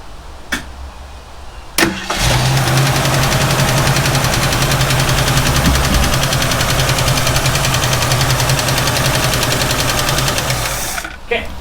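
A 1967 Ford Mustang engine cranks and catches after a restart, then runs steadily and loudly at a rough idle for several seconds before cutting off, with a voice briefly audible.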